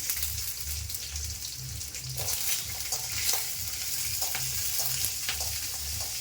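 Onions and small shallots frying in hot oil after mustard seeds have popped, a continuous close sizzle with occasional stirring scrapes and clinks, no voices.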